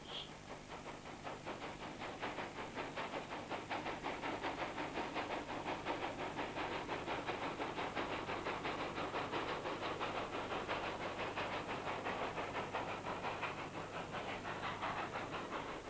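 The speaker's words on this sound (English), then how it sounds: "the country comes alive with steam locomotives working the cane fields and around the mills" Steam locomotive at a sugar cane mill, releasing a steady, loud hiss of steam that runs unbroken at an even level throughout, with a low mechanical hum beneath.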